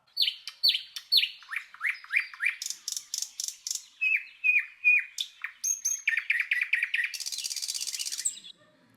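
Clarinet and violin imitate birdsong in Messiaen's Quartet for the End of Time, a blackbird in dialogue with a nightingale: rapid high chirping phrases, repeated trills and runs, ending in a dense sustained shimmering trill, played alone.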